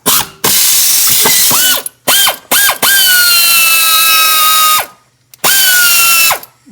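A ratchet with a 10 mm socket spins a transmission bolt on a 2009 Honda Civic, loud and close, in several rapid whirring bursts separated by short pauses.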